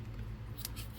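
Scissors snip through knitting yarn in one or two quick, faint cuts over a low background hum.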